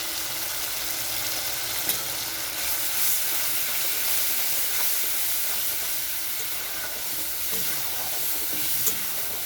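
Tomato and spice masala with salt, turmeric and Kashmiri chilli powder frying for a prawn dish, giving a steady close hiss and sizzle throughout with a couple of faint clicks and no speech.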